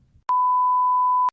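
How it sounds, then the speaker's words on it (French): A mobile phone sounds a single steady electronic beep tone lasting about a second, loud and close. It starts abruptly after a brief bit of low background noise and stops just as abruptly. "Attends, désolé Julien, c'est parce qu'il y a mon téléphone qui a sonné"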